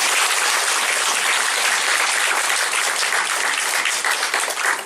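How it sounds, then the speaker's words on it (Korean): Sustained applause fills a church service celebrating a new congregation's founding, a dense steady wash of many hands clapping together for the full stretch without a break. "여러분들 힘내라고 우리 박수로 정리하고"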